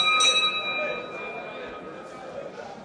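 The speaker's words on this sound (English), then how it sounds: "So the bell sounds to begin round number 5" A single bright boxing bell strike starts a round at a 60 kg lightweight bout, ringing out and decaying slowly over a crowd murmur.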